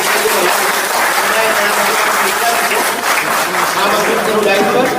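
Loud, dense applause from an audience at a Hindi-Urdu poetry recital fills the room continuously as a poet is invited to the stage, with steady clapping throughout.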